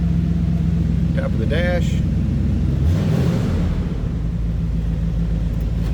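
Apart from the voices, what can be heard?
1972 Oldsmobile Cutlass Supreme engine idling with choke on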